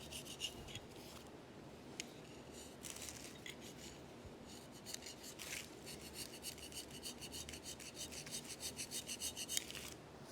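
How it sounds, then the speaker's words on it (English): Rust is scraped off the surfaces of a Danfoss OMT 400 hydraulic wheel motor from a Case 1840 skid steer, giving faint, close, rasping strokes that repeat irregularly and then quicken into a steady scratching rhythm, with no talk. "I'm going to scrape all these surfaces clear of rust."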